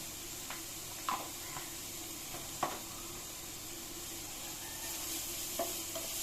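Turmeric and other spice powders sizzle in a pan for a chicken curry, a steady close frying hiss with a few light clicks of stirring, no speech.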